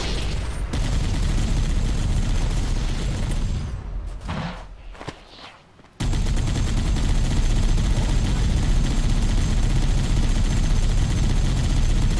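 Dense, loud bursts of rapid gunfire in the video game Halo: Combat Evolved Anniversary fill the scene, breaking off briefly to quieter rumbling before the barrage resumes and continues steadily.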